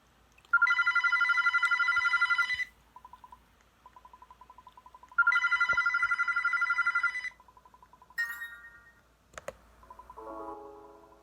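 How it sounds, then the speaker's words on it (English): Telephone ringing in the Roblox game Airplane 2: two loud bursts of electronic trilling bells separated by a quieter repeating beep, then brief chimes and tones near the end, no talking. "A phone."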